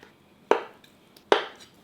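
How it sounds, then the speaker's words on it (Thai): A knife chops through food on a board for khanom jeen nam ngiao, giving two sharp, close chops spaced under a second apart against near silence. "ผมก็จะหั่นให้เป็นชิ้นประมาณนี้ครับ"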